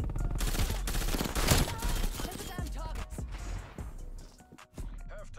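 Rapid gunfire from an M16 burst rifle in Call of Duty: Black Ops Cold War, a continuous stream of cracking bursts that stays loud and dense throughout and dips near the end, with faint talk underneath.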